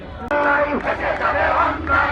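A protest crowd at a rally in Shahbag by teachers whose primary school appointments were cancelled, chanting together loudly with voices rising in unison, rhythmic shouts under a reverberant outdoor wash.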